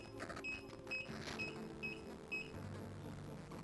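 Defiant electronic keypad door lock giving a series of short, high beeps during code setup, spaced irregularly and fairly faint against a quiet room with light handling noise.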